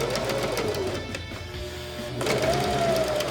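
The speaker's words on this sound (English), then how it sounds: "Now we're going to take it over to the sewing machine" A sewing machine stitches closed the edge of a small lavender eye pillow, its needle whirring rapidly and evenly with a brief slowdown midway before picking back up, close and alone.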